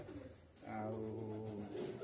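A pigeon gives a soft, low coo, a single drawn-out call that starts after a brief pause and carries on to the end, faint and near, with no talking.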